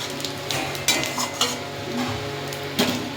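Dried red chillies and bay leaves hit hot oil that was just used to fry catla fish, crackling and sizzling up close with a few sharp metal utensil clinks and stirring scrapes, no speech.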